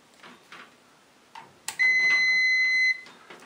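A multimeter set to continuity gives one steady high-pitched tone lasting about a second, close and clear, after a few light handling clicks and taps.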